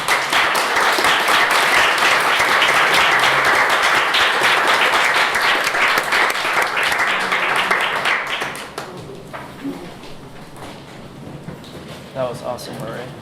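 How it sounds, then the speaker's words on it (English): Sustained, loud audience applause at a tech conference session on alternative networks, dense clapping that fades after about eight seconds into scattered claps and murmuring. "Let's give a big round of applause."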